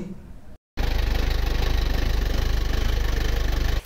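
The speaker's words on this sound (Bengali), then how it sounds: "গাড়িটি স্টার্ট দিয়ে ইঞ্জিনের সাউন্ড আপনাদেরকে শোনানোর চেষ্টা করছি" An old JMC pickup truck with a 12-foot body fires up and settles into a steady, loud, pulsing idle after a short break, with no talk.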